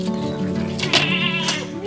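A Bligon goat bleats up close with a loud, wavering cry, heard over a busy background of people talking at a livestock sale.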